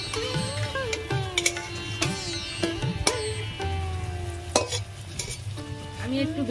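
A paratha fries in a generous amount of hot oil in a wok, a steady close sizzle broken by sharp metal clicks and scrapes of a spatula turning it, with no talk.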